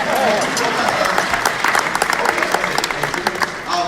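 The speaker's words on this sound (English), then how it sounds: "we can clap that up" Audience applause and cheering in a hall during a speech honoring an organization, a dense steady wash of clapping that fills the whole stretch at moderate loudness, with voices and whoops mixed in.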